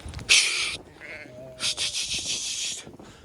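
Sheep bleating at a lambing site during the lambing season, two loud close bleats with some quieter bleating between them.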